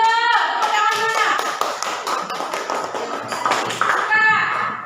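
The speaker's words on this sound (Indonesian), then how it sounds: "Tepuk tangan dulu." A group in a classroom-style training session claps in unison, with a series of sharp, evenly spaced hand claps, along with some voices and tonal chimes.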